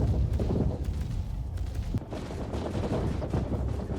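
Ship guns blaze in a Star Citizen space battle: a loud, dense, unbroken stream of rapid-fire blasts with heavy low rumble, barely pausing across the few seconds.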